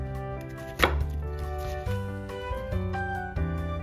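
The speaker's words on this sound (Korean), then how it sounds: "양파 한 개는 굵게 채썰어 주시고요" An onion is cut into thick strips with a knife, a few separate chopping knocks spread over a few seconds, close and alone, with music playing underneath.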